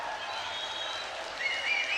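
A rabid home crowd in Ulaanbaatar applauds steadily after a 3x3 basketball World Tour quarterfinal-clinching win, a dense wash of clapping and cheering that swells slightly toward the end, with a commentator's voice faintly over it.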